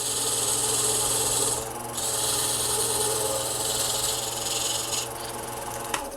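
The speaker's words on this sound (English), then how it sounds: "I've got it back on the lathe after I put in that weight shift chamber, and I'm just refining the taper a little bit" A lathe refines the taper of a weight-shift crankbait lure body, producing a steady, loud rasping hiss that pauses briefly twice, with no talking.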